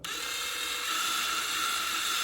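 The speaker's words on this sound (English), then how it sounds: "kind of slowly drill the metal rivet out so the bottom of the car can come off" A power drill whines at a steady high pitch, grinding continuously up close without a break as it drills out a metal rivet on a diecast model car.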